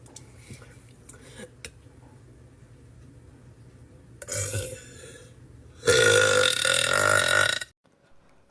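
A woman lets out burps, a few short ones early on, then a longer croaky one and a loud, drawn-out belch near the end, close to the microphone.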